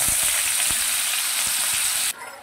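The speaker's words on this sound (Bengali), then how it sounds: "আলুটা ভেজে নেব" Potatoes fry in hot oil with a loud, steady sizzle and a few soft knocks from stirring, and the sound drops off abruptly just before the end.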